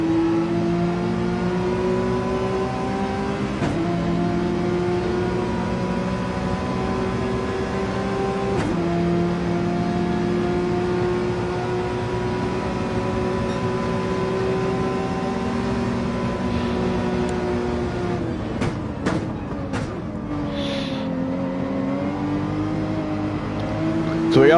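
Onboard engine of a race car in a racing game league race, chasing down another car; a steady, sustained engine drone with shifting pitch runs throughout, with a few brief gear-change breaks near the end.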